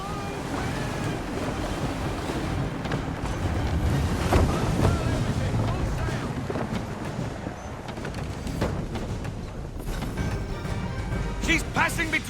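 In Assassin's Creed 3 Remastered, a sailing ship under hard sail ploughs through ocean waves, with continuous rushing water, surf wash and gusting wind. Voices come through now and then over the roar.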